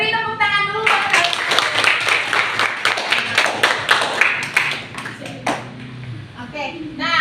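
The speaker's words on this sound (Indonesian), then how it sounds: "Beri tepuk tangan dulu buat kalian." Schoolchildren in a classroom clap together in a lively, uneven burst of rapid handclaps lasting several seconds, with children's voices and a teacher speaking just before and after.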